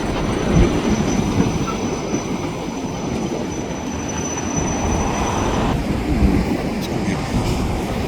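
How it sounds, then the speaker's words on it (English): An SRY rack freight train rolls past at length, a continuous rumbling roar of wheels on rail with faint squeals and clatter, steady and fairly loud throughout. "Fair-sized rack train probably heading to Queensboro"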